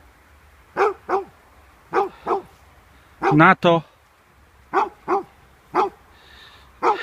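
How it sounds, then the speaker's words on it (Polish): Dogs bark repeatedly in short single and double bursts, spaced irregularly at moderate distance over a quiet outdoor background, with a brief spoken word in between. "Psy szczekają"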